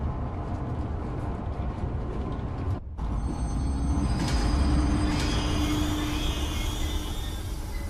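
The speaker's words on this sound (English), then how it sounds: "select the giraffe enclosure on the control panel and start the train" A train in the video game Zoochosis starts up and runs, a steady low rumbling roll with a brief dropout near the start and a faint rising whine later, with no talking.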